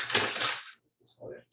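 A metal spoon clinks against kitchenware while mashed potatoes are being prepared: a bright, close clatter lasting under a second, then a pause and a softer clink.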